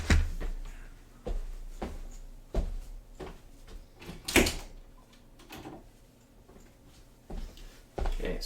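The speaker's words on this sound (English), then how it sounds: "Let me open up my door here." A door is opened in a home workshop, with a series of knocks and clunks and one sharper bang near the middle, all fairly quiet and with no talking.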